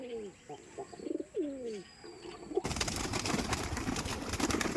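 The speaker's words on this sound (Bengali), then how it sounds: "এ দেখুন আমার কত বড় কবুতারের ঘর ছাদের উপরে পঞ্চাশ ষাটটা কবুতর আছে" Pigeons in a large rooftop pigeon house coo in repeated soft, throaty rolls close by, followed by a sudden switch to loud, dense rustling and flapping noise.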